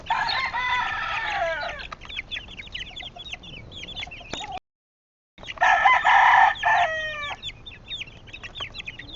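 A rooster crows and chickens cluck nearby on a farm, two loud crowing bursts separated by a short silent gap, with scattered clucks between and no talk over them.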